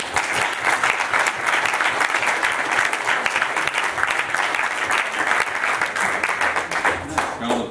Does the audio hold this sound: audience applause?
yes